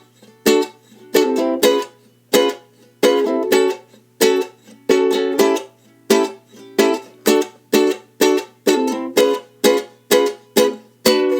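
Ukulele strums the chords of a song's pre-chorus without melody, crisp separated strokes in a steady four-count pattern with short gaps between groups, close and alone.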